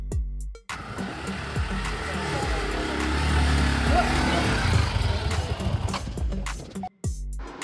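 Motorcycle ridden up the ramp off a ferry launch at Rewas jetty, a sustained close engine drone building through the middle and dropping off near the end, under a mix of background noise.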